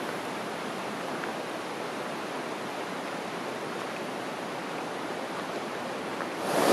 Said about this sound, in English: I don't know if you can hear me because the river's going pretty good